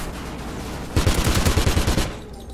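Rapid assault rifle fire in a video game rattles out in a dense burst of about a dozen close, loud shots lasting roughly a second, with no talk.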